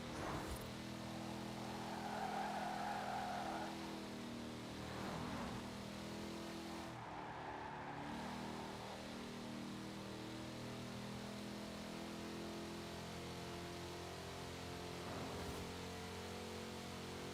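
A car engine in the racing video game Forza Horizon 4 drones steadily and fairly loudly throughout, with a brief hiss of tyres or wind partway through; no voices.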